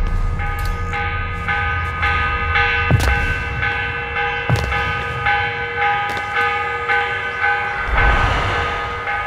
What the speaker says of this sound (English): The morning bell.